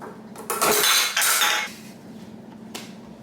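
A metal bench scraper rasps across a cutting board and pushes chopped food into a pan in the kitchen, two loud scraping strokes followed by a faint clink, with no talk.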